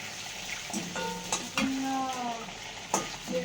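Cut brinjal fries in hot oil, a close, crackling sizzle punctuated by a few sharp spoon or pan knocks. Someone talks over the cooking.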